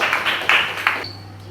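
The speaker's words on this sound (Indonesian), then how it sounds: "tepuk tangan untuk semuanya" A few brief, scattered handclaps come from students in a madrasah classroom. About four quick, close claps are followed by quiet with a low hum.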